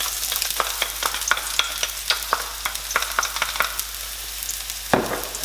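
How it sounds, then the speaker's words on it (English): Ginger and garlic stir-fry in a couple of tablespoons of hot oil for orange chicken, a close, steady sizzle punctuated by sharp, repeated clicks and scrapes of a utensil against the pan. "And we just want to stir fry that for a few seconds."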